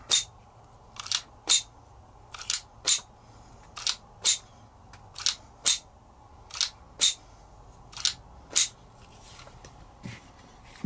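Disassembly of a Beretta Model 76 .22 target pistol as its slide is wiggled loose: sharp metallic clicks repeat at a steady pace, roughly two per second, close and distinct over a quiet background.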